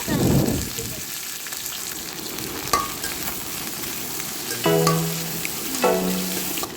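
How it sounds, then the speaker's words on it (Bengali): Chopped onions hit a pan with garlic for Chinese vegetables with chicken, a loud sizzle burst at first that settles into steady frying, then a few scraping stirs and clinks of the spatula. "এবার যে পেঁয়াজগুলো কাটা ছিল ওইগুলো দিয়ে দেওয়া হলো"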